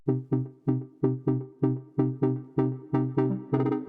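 A simple Serum synth patch for deep house repeats short, punchy plucked notes in an even rhythm, each decaying quickly, played alone.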